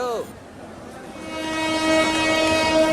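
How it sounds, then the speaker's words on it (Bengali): A passenger train's horn sounds as it starts to move: after a brief voice at the start, a long steady horn tone rises over the rail rumble and holds loud to the end. "এবার একটা হর্ন দেওয়ার সাথেই একটা ঝাঁকুনি দিয়ে ট্রেনটা চলতে শুরু করলো।"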